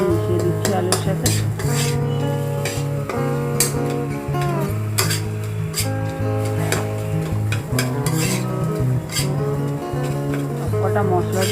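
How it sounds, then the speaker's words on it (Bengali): A spoon or spatula stirs Maggi masala and other spices into potatoes in a pan for samosa filling, with repeated scraping clinks against the metal over steady background music. "ভালো করে মশলাগুলোকে মিশিয়ে দিচ্ছি আলুর সাথে।"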